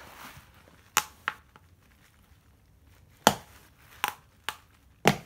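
Several sharp pops and snaps as a tyre bead seats onto a Xiaomi M365 electric scooter's rear wheel rim, close and fairly quiet, scattered irregularly among faint handling noises.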